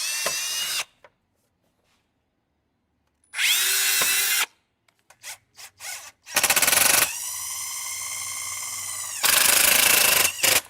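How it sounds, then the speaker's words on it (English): A power drill bores a pilot hole through plastic on a 1953 Chevy cooling fan kit install, in several loud, close bursts of whirring separated by silent pauses, with no talking. "let me drill a pilot hole through this plastic so we don't bust it"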